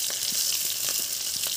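Green chillies and black cumin seeds sizzling in hot oil in a kadai, a steady bright hiss with small pops and crackles scattered throughout, close and fairly quiet, with no talking.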